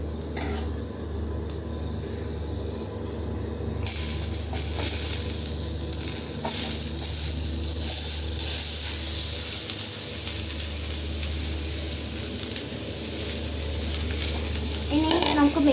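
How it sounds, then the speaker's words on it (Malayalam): Onions sizzle and fry in a hot pan with ginger and garlic for fish biryani, a steady crackling hiss with stirring scrapes and a louder burst near the end, while a voice talks quietly at times. "ഇനി നമുക്ക് സവാള ഇട്ട് കൊടുക്കാം."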